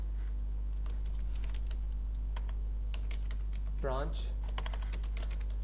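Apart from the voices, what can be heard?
typing on computer keyboard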